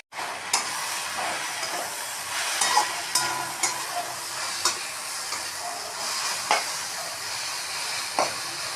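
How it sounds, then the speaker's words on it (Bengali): Water spinach (kolmi shak) frying in a pan, a steady broadband sizzle with repeated sharp scrapes and clatters of stirring spaced through it, close and fairly loud, no voices. "এইভাবে ভালো করে ভাজতে হবে।"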